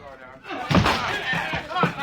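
A door is broken in for a radio drama, heavy slams and splintering thuds landing in a few hits, loud and up close, mixed with voices.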